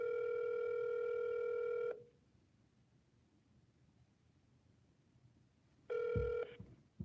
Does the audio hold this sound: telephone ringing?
yes